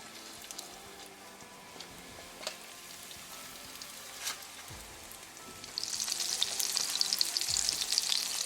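Catfish pieces laid into hot oil in a pan over a medium gas flame. A quiet hiss with a few soft clinks swells into a loud, crackling sizzle after the fish goes in.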